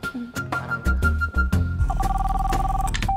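A telephone rings on an outgoing call, a steady tone repeating over a thumping background beat, close and moderately loud with no talk.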